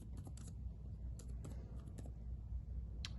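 Soft, quick keystrokes on a computer keyboard, tapping in short irregular bursts with a faint background hum, close and quiet.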